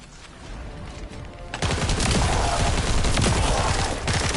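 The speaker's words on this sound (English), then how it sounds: "I get shot at." Loud, continuous gunfire in the shooter game The First Descendant builds into a dense, rapid barrage after a quieter opening. The shots stay close and overwhelming with no pause.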